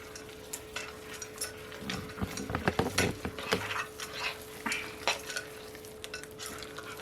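Chocolate stirred into an oily three-ingredient cookie mixture in a bowl, with a run of close scraping and clinking strokes that cluster in the middle and trail off into sparser scrapes, over a faint steady hum.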